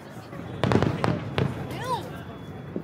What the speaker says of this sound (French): C'est vrai, mais c'est cher, le feu d'artifice. Dis-toi que ça, on l'entend jusqu'à chez nous.